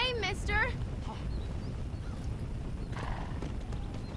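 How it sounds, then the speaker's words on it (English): Hooves clip-clop in a quick galloping rhythm from a burning nightmare horse in the video game Red Dead Redemption: Undead Nightmare, with a whinny near the start, all under steady game background and talking. "Please don't be alarmed by my burning nightmare horse."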